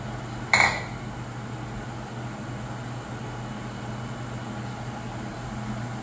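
A single brief clink of a lid set onto a cooking pot of bitter melon and vegetables, fairly close, followed by a steady low hum with no talking.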